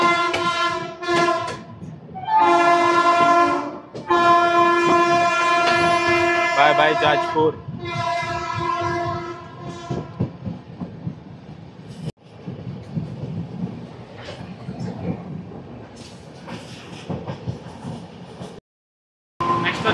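Shatabdi Express (Puri–Howrah) train pulling out of Jajpur Road station after a short halt: a loud, sustained horn-like tonal blast in the first seconds, then rumbling, clattering rail noise as it gathers speed, with people talking over it.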